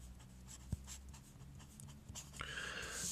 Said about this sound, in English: write down the top one